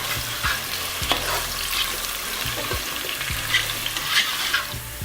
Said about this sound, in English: First we're gonna lightly saute the carrots.